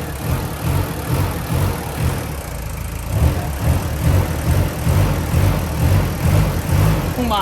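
A car engine idles roughly with a low, pulsing rumble and uneven throbbing that shakes the car, heard close and loud and steady throughout, with no talking, around an intake system cleaning.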